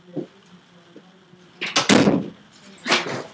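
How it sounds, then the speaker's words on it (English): A bedroom door shutting at home: faint shuffles, then a sharp close with a rattle and a second thump about a second later, with room hum behind. "I have to close my door"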